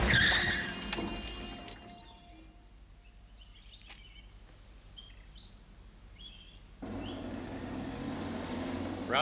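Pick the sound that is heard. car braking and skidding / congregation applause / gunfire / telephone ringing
car braking and skidding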